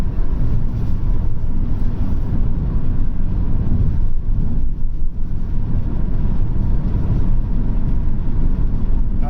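A Vauxhall Vectra B CDX car accelerates in third gear past 4,000 RPM, with a loud, steady engine drone and road and wind roar filling the cabin throughout.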